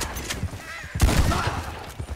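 Slug gun gunshots in the western game Red Dead Redemption 2 come as several sharp, loud cracks, a few quick reports followed by a heavier blast around the middle, with rumbling echoes trailing off between shots.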